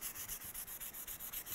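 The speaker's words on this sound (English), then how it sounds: "Meanwhile, I'm going to keep sanding with my 180." Steady back-and-forth scraping of 180-grit sandpaper on a metal Ford steering column by hand, about eight strokes per second in an even rhythm, close and fairly quiet with a hissy, gritty texture.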